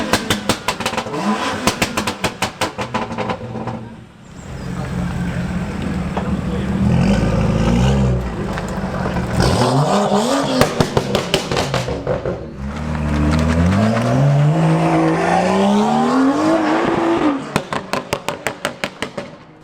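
BMW cars revving their engines nearby, with loud repeated throttle blips and rising, falling engine pitch that sweep up and down across the whole stretch, some rapid pulsing bursts, and occasional talk underneath.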